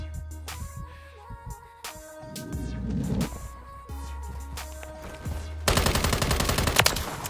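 Bursts of rapid gunfire crackle through the soundtrack of Call of Duty: Modern Warfare 3 (2023), with scattered shots early on and a dense, loud stretch of automatic fire near the end.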